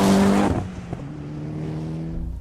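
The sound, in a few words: engine of a tuned 2013 Mitsubishi EVO X during a road test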